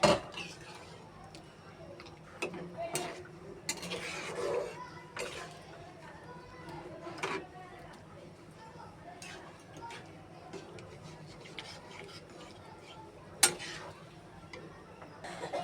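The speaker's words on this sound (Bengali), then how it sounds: "আমাদের এটা ভালোভাবে মিক্স করে নেব মাংস এবং ডাল" Meat and chana dal are stirred together in a cooking pot, with scattered clinks and scrapes of a utensil against metal, fairly quiet and uneven in rhythm, under a person talking.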